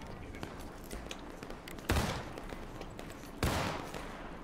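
Rifle volleys crack out at a Civil War reenactment skirmish in a field, with two loud, distant-sounding bursts of massed musket fire, each trailing off in a rolling echo, amid steady background noise.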